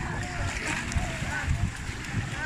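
Water splashes and sloshes steadily as someone swims in clear sea water off Mindoro, with voices in the background throughout.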